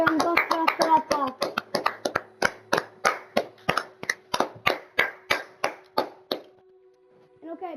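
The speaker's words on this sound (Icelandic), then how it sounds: "Því honum gott klapp fyrir þetta." Applause for a house builder in a building challenge: sharp, rhythmic hand claps, about fifteen evenly spaced strikes over roughly six seconds, close and fairly loud, ending with a brief pause and faint voice.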